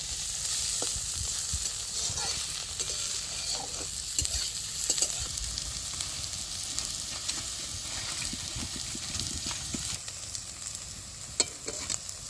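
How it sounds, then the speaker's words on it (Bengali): Bitter melon frying in a pan with a steady sizzle and hiss, repeatedly stirred with scraping utensil strokes; close and continuous, no talking. "পাশে উচ্ছাটাও ভাজা হয়ে গেছে"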